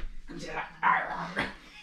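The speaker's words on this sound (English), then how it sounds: "Did a little bit of running outside with my dogs. There's Zoe here" A dog whimpers and yips in a few short, fairly close bursts, with one louder cry in the middle, after an outdoor run with its owner.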